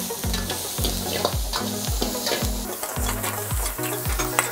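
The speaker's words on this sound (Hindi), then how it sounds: "आप थोड़ा ऐड कर दीजिए ग्रीन और yellow bell pepper, spring onion. थोड़ा इसे टॉस करें।" Green and yellow bell peppers and spring onion are tossed in a sizzling wok with about eight regular scraping swoosh-and-clank strokes over a constant frying hiss, close and clear.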